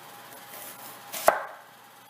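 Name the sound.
chopping an onion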